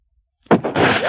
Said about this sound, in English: gunshots echo across the wind-swept, snow-covered reaches of the wild Northwest